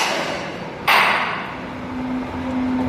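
A tuning fork is struck once with a sharp metallic tap, followed moments later by a faint, steady, pure hum that sustains over a constant background hiss.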